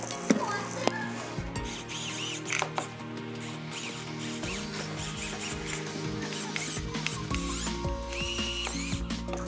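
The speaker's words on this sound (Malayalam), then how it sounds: "ജസ്റ്റ് സ്ക്രൂ ടൈറ്റ് ചെയ്തെടുക്കാം" A screw is driven into a wooden table-top coconut scraper with a power driver that whirs and rattles in uneven bursts, close by, over busy background noise.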